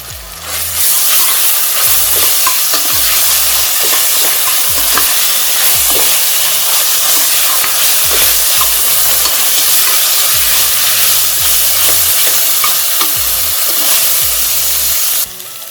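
Onions frying with ginger garlic paste for vegetable biryani, a loud, dense, steady sizzle close up, with rhythmic stirring scrapes throughout and no voices.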